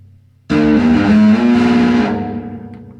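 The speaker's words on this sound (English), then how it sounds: "I've got distortion set up, so I'll hear what it sounds like with a bit of distortion" An instrument played through a GT5 effects unit with distortion sounds one loud, sustained, gritty chord that rings out for about a second and a half and then slowly decays, with no talking.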